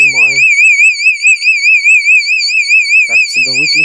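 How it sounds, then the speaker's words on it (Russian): A smoke detector supplied with an Atomstove large tent stove sounds a loud, steady, warbling electronic alarm tone during a test. It runs continuously for several seconds, with someone speaking briefly at the start and near the end. "датчик дыма тестировать, который идет в комплекте"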